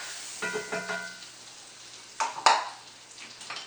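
Butter sizzling in a hot cast iron pan for French toast gives short bursts of hissing and crackle, separated by quieter gaps, with a faint clink of utensils.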